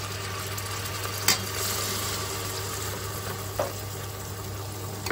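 Ginger-garlic paste dropped into a hot tempering of softened onion and garlic for mutton kheema, giving a steady moderate sizzle with a low constant hum beneath and two brief stirring clinks.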